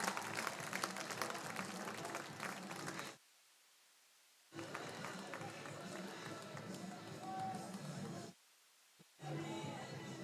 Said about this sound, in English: Crowd here going to give a standing ovation to Nick Hogan.